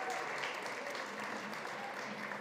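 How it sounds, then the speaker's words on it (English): Sustained, dense clapping from a large audience at a food summit in Austin, even and continuous throughout with no break. "Give yourselves a round of applause."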